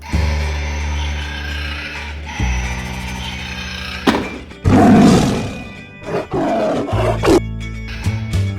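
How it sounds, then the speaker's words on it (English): A tiger roars repeatedly, loud and close, with deep rumbling bursts separated by short pauses and sharper growls toward the end. "Tiger."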